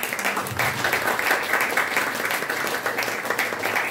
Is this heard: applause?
yes